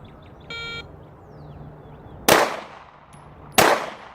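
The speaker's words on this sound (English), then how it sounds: "The first one, 2 shots will be fired in 4 seconds." Two handgun shots are fired during a license-to-carry proficiency test, sharp loud cracks about a second apart, preceded by a short electronic timer beep.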